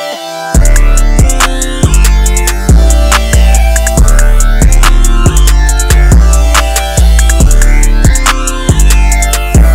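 Full trap beat built in FL Studio, with heavy booming bass, kicks, hi-hats, snares and rim shots over a sustained synth melody, loud and continuous with no talk.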